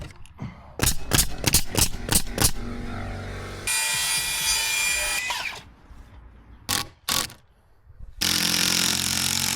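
Nailing boards onto a wooden fence gate with a power nailer, a series of sharp, rapid bangs followed by bursts of loud continuous machine noise and a few more quick hits, close and alone.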